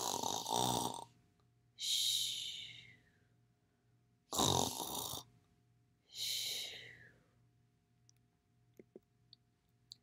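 A narrator imitates a princess snoring loudly: four long, heavy snore-like breaths in slow rhythm, close and alone, followed by a few faint clicks.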